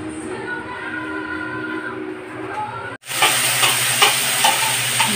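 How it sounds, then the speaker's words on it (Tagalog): Mung beans simmering in a pot on a home stove, a steady bubbling and sizzling wash that drops out briefly, then returns louder and brighter with soft clinks, close and continuous. "kumukulo na yung munggo"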